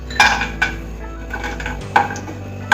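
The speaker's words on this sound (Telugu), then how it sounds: "నెయ్యి వేసుకొని ఈ డ్రై ఫ్రూట్స్ వేయించుకోవాలి." Cashews and almonds frying in ghee in a pan, heard as a few sharp metal clinks of a spoon against the pan over a low steady background, alone with no talk.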